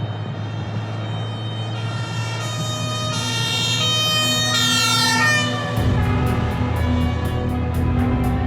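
An ambulance siren in a German TV drama, a steady wailing tone that grows louder with a rumbling vehicle, then shifts to a different pulsing pattern as it passes close by.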